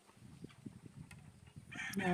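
Chickens and roosters on a small poultry farm where the stock is being sold off, giving scattered soft clucks under low background noise, with louder bird calls near the end.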